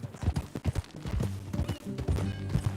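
Horse hooves clip-clop in the video game Red Dead Redemption 2, a steady rhythmic series of close, hollow thuds at a walking pace, heard without speech.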